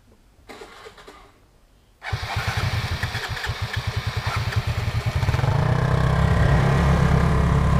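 Motorbike engine on a hilly road trip from Pai to Chiang Mai, quiet at first, then the engine fires up loud and close, pulsing rhythmically before settling into a steady, heavy drone.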